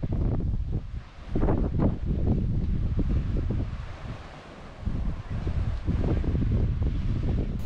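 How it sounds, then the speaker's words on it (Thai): Gusty wind buffets the microphone in strong waves, with a low surging wash of surf underneath at a coastal viewpoint on Koh Si Chang, Thailand; no voices, just blustery outdoor roar rising and easing. "ได้ยินเสียงลมแล้วก็เสียงคลื่น"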